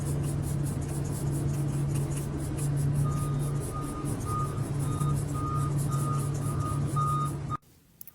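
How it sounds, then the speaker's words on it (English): A farm feed truck pulls in with a steady, loud backup beeper repeating over a low diesel engine rumble, the sound running continuously before cutting off abruptly near the end. "That's the feed truck on this farm."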